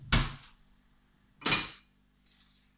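A metal frying pan is swapped on a kitchen stove while making a citrus and cream sauce for sea bream: two distinct clanks of pan against the hob, followed by a faint light clink, with near silence between them.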